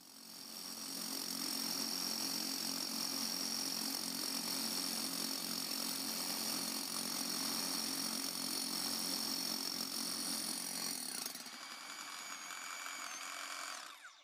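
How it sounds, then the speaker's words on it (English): A cordless hammer drill bores a 28 mm hole 100 mm deep into curbstone, a loud steady pulsing hammering grind lasting over ten seconds before easing off near the end. "this demo is a 28 millimeter diameter hole, 100 millimeter deep into some curbstone"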